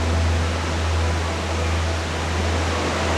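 Unbroken, loud roar of the huge waterfall at Iguazu Falls, a thick rushing noise with a strong low rumble, heard alone without talk.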